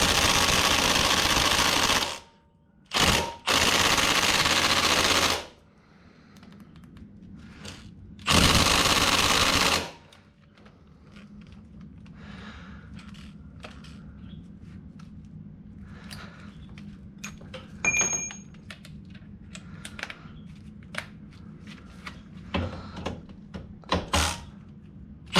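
A power tool zips off the stabilizer bar end link on a Mazdaspeed 3, giving loud sustained bursts of whirring. Quieter clanks and rattles of work follow.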